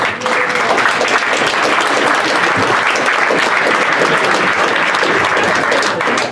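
Loud, sustained applause from a crowd at a football club's meet-the-owners event as the team manager is introduced, a dense, even roar of clapping with no talking over it.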